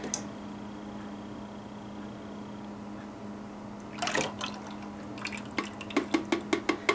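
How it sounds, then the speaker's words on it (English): Lye is poured into hemp soap oils in a pot: a low steady hum, then a soft trickle and a run of quick, close drips toward the end. "now we're going to go ahead and add our lye in"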